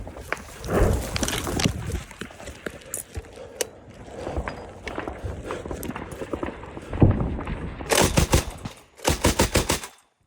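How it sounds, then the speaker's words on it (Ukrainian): Rapid bursts of automatic gunfire crackle at a distance, a few short volleys spread across the clip, with the sharpest, densest bursts near the end. "Чуєш, в нашу сторону постріли йдуть?"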